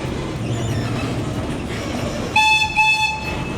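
The Erie Zoo train rumbles steadily as it crosses a trestle, then its horn sounds two loud, close toots near the end.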